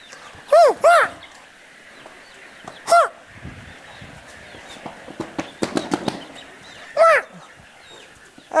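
Chickens on a poultry breeding and hatchery farm give several loud, squawking calls in short bursts, with sharp clicks and rustling between them and faint voices in the background.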